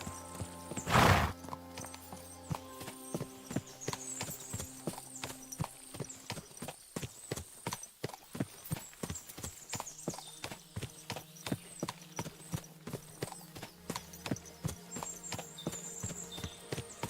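Steady rhythmic hoofbeats from a horse in the video game Kingdom Come: Deliverance II clop along at a fast pace for the whole stretch, with a horse whinny near the start; no clear talking.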